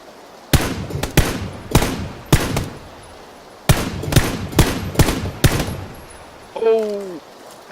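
Gunfire rings out in the PUBG Battlegrounds video game, about a dozen loud, sharp shots in irregular clusters, followed by a brief tonal vocal sound near the end.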